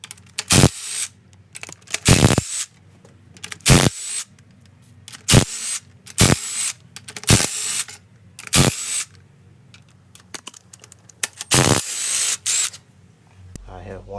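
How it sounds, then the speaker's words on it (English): Head bolts on a junkyard engine being loosened with a 15mm wrench, giving a series of sharp, loud metallic cracks and clicks at irregular intervals, each followed by quieter handling noise. "I'm gonna go ahead and I'm gonna loosen all these head bolts up."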